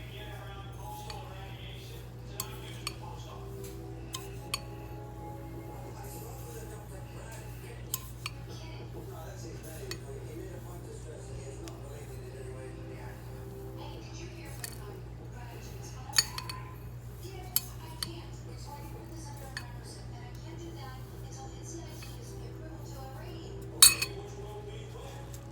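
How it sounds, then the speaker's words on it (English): A dipped strawberry is patted against the side of a bowl, giving soft intermittent taps and a few light clinks of dishware over a steady low hum, with no talking. "You don't want to wipe it, you just patting it against the side of the bowl"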